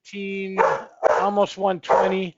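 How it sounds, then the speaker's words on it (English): A dog barks and yips nearby at the harbor on Mackinac Island, short bursts that mix with someone talking over them. "I do apologize about the dog there."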